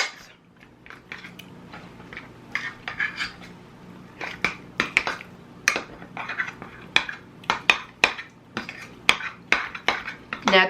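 A spoon scrapes and clinks against a bowl while crab dip is stirred, a steady run of short knocks and scrapes that grow denser and louder toward the end, close by and with no talk.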